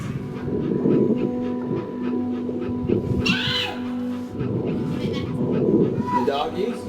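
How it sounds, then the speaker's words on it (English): Therapy dog in the game That Dragon, Cancer panting in quick rhythmic breaths alongside game music and effects, while people talk over it. "That is a dog."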